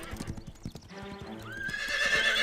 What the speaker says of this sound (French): C'est juste un cheval.